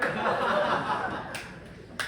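Audience applause at a stand-up comedy competition final, a steady broadband patter of many hands with a few chuckles mixed in, sustained throughout and fairly loud.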